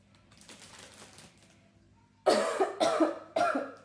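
Three sharp coughs from a scratchy throat in quick succession, close and loud, after a stretch of faint shuffling noise.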